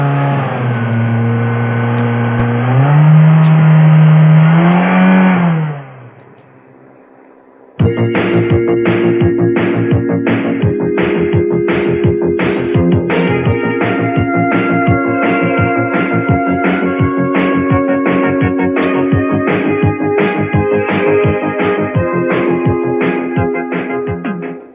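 A car engine idles with a steady drone, then cuts out briefly before resuming. After that comes a fast, rhythmic firing pulse that holds loud and even for the rest of the stretch.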